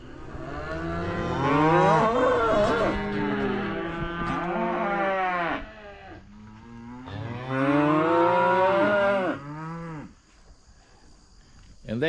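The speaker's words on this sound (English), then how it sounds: "I assume that you can hear these calves bawling" Sixteen weaned calves on the second day of weaning bawl loudly in long overlapping moos, two big waves of calling with quieter gaps and insects chirping faintly behind.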